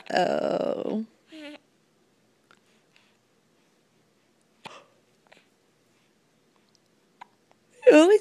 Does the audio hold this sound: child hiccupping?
yes